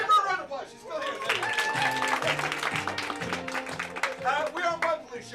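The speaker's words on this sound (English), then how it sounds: "Give her a round of applause." A small audience at a monthly variety show claps for a performer, with sharp, fairly close hand claps and some cheering running steadily for several seconds beneath a voice.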